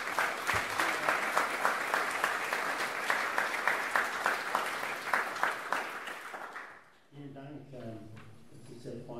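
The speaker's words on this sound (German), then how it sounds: "Einen großen Applaus bitte von Crime Cologne" Loud, steady audience applause fills a literary festival event at Crime Cologne for most of the stretch, then gives way to someone speaking.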